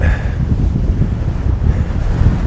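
Strong wind on Rattlesnake Mountain buffets the microphone in loud, gusty low roars, steady and close, with no other sounds standing out.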